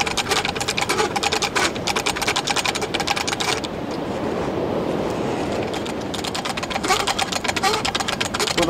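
The wind-up mechanism of a Kontiki fishing torpedo is cranked by hand, making rapid, loud ratcheting clicks that pause briefly in the middle before resuming.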